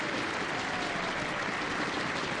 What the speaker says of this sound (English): Right up in the 1-3 pocket, and the crowd appreciated that, as did Kirsten.